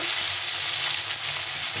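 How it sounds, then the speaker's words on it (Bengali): Chopped tomatoes fry in a pan, a loud, continuous, close hissing sizzle with no pauses and no voices, while the fish curry is being prepared. "টমেটোটা একটু ভাজা ভাজা করে নেব।"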